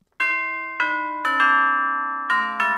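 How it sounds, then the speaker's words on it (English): A doorbell rings in a quiet indoor entryway, sounding several clear, resonant chime tones in sequence. Each tone rings out and slowly decays before the next overlaps it, with no talking. "I'll try this doorbell."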